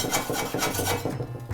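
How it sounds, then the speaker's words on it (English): Scraping grime off a cast iron skillet down to bare metal, a continuous rhythmic rasping and grinding of a tool against the pan, loud and close with repeated strokes and no talking. "When you encounter some resistance, you just keep at it until you grind it down to the surface of the metal."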